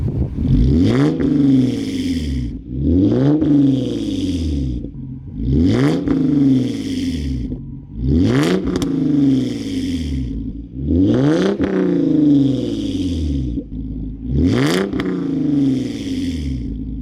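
A car engine revs up hard and drops back six times in a steady rhythm, loud and close, with a raspy note from an exhaust patched with JB Weld.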